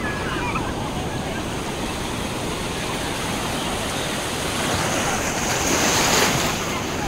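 Ocean waves roll in continuously on Varkala beach, a steady broadband surf wash with wind noise on the microphone, swelling louder near the end.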